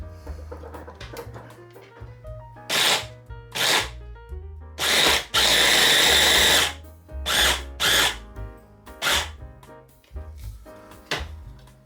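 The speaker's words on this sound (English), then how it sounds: "I'm just going to give them a blitz in the blender." A kitchen blender chops raw chicken breasts in short, loud pulsed bursts. A single longer whir sits among several quick blitzes, with quiet gaps between them.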